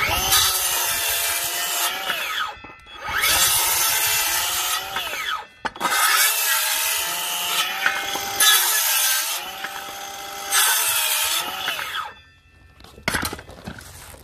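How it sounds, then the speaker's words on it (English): An Erbauer circular saw rips through scrap timber in repeated loud cuts, each a harsh screaming buzz lasting a couple of seconds, separated by brief pauses as the blade spins down and comes back up. "it's still ripping through that timber all right"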